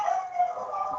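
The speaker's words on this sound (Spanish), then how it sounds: "Hay unos perros de la casa de mis vecinos que aúllan cuando pasan vehículos" Neighbours' dogs howling in a long, wavering, steady tone throughout, moderately distant and fairly faint, with no talk over it.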